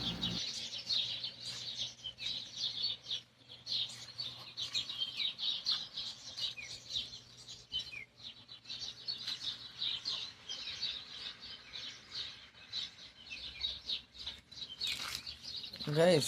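Many small birds chirp and tweet continuously in busy overlapping bursts in a date orchard in Saudi Arabia, fairly faint and outdoors, with a few quieter sounds underneath.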